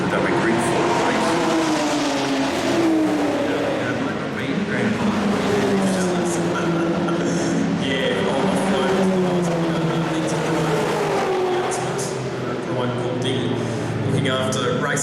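Group N touring cars race at an ARDC historic meeting, engines droning steadily and revving through gear changes, mixed with crowd and circuit ambience for the whole stretch.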